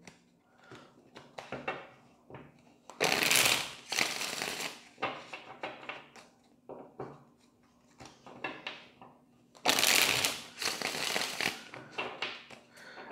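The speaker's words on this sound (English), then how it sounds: "All right, one more shuffle." A deck of playing cards is handled and shuffled at a tarot-style reading table, giving repeated short rustles and taps plus two louder riffle bursts, close and alone without talk.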